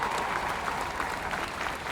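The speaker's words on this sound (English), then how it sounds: "so let's give him a round of applause" A crowd gives a round of applause for a football head coach, a steady patter of many hands clapping at moderate distance that carries on evenly and stands alone without talk.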